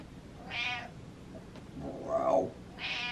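A pet cat meows indoors, three short, fairly quiet calls spaced about a second apart, the middle one lower and more drawn out.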